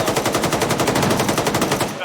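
A heavy machine gun in ArmA 3 fires one sustained, rapid burst of evenly spaced loud shots for about two seconds, close and dominant, with no talk.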